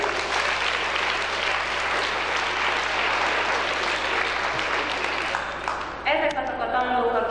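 An audience at a 1997 school Christmas ceremony applauds steadily, with dense clapping filling the room until a voice starts speaking over its tail.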